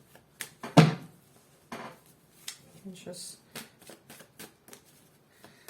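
Tarot cards are shuffled in quick papery riffles and soft slaps, a crisp burst followed by lighter intermittent flicks, close by and fairly quiet.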